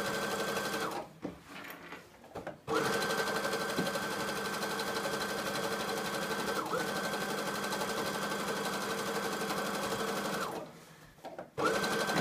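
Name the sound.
sewing machine stitching fabric edges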